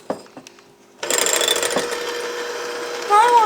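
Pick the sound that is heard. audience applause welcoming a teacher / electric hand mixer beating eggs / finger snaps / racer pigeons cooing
electric hand mixer beating eggs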